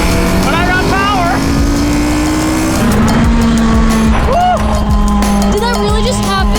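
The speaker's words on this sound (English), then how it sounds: "Tires are squealing." Race car tires squeal against a New Type R as engines roar, with pitched screeching sweeps rising and falling over a steady loud engine drone while a voice talks throughout.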